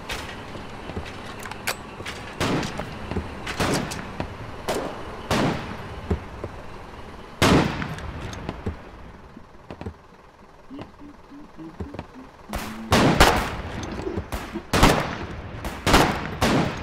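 Rifle gunfire in a video game comes as loud, sharp single shots and short bursts spaced through a stretch of low background noise, with a quiet lull in the middle and a voice speaking briefly.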